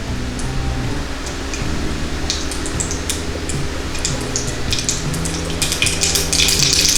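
Mustard seeds spluttering in hot oil in a pan while beans poriyal is cooked, a steady hiss with scattered sharp pops that grow denser toward the end, close and fairly loud with no talking.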